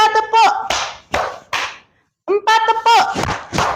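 A group clapping game in a classroom, with sharp claps struck together as a group, interleaved with a voice chanting the count in rhythm.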